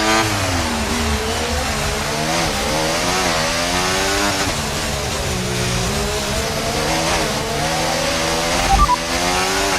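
A Mercedes AMG Petronas F1 car screams around the Singapore circuit in the racing game F1 24, its engine note climbing and dropping repeatedly through upshifts and downshifts, loud and continuous with no talking.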